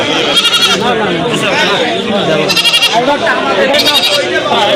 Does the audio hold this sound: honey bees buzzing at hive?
no